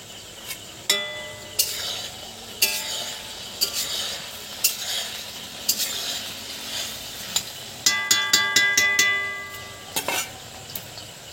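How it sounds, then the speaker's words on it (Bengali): Potatoes frying in a pan with a steady sizzle, broken by sharp clinks and scrapes of a utensil stirring against the pan, close and fairly quiet with no talking. "আলু ভাজা"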